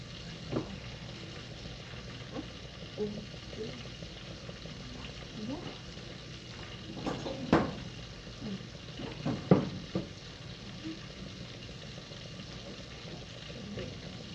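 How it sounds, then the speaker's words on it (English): Caribbean bake dough fries in a pan with a steady, soft sizzle, faint and low in level, marked by a few brief clatters and louder bursts around the middle. "So I'm preparing to fry my bake."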